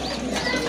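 Pigeons coo steadily at close range, one soft murmuring call blending into the next. The birds are running pigeons, a breeding pair already laying eggs and raising young.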